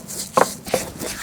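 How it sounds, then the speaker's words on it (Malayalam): Fried dried fish snapped into pieces by hand before grinding, giving two or three short, dry crunching cracks close up with quiet pauses between. "ഇനി ഇതാ വറുത്ത് വെച്ചിട്ടുള്ള ഉണക്കമീൻ ഒന്നങ്ങോട്ട് പൊട്ടിച്ചു കൊടുത്താലേ അരയ്ക്കാൻ നല്ല സുഖം ഉണ്ടാവും"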